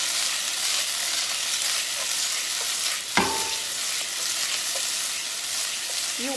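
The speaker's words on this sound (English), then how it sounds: "You want the black bean sauce to stir it, to stir fry too, because you want that cooked." Black bean garlic sauce stir-frying in a pan, a loud continuous hissing sizzle throughout with a single sharp clack of a utensil midway and faint scraping, no voices.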